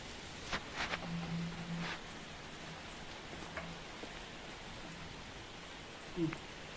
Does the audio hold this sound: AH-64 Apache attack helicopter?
no